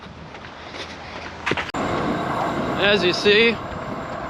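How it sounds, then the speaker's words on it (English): A train passes along a rail line beside a walking path between Subiaco and Perth, a steady rumbling roar with a brief bump and a whistling squeal near the end, while someone briefly speaks. "there goes another train headed down Claremont way"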